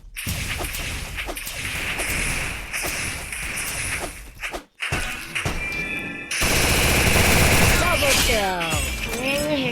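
Automatic gunfire in the mobile game Free Fire on a Craftland map, with dense rapid bursts nearly continuous throughout, a brief gap midway, then heavier fire with whooshing effects and game sounds.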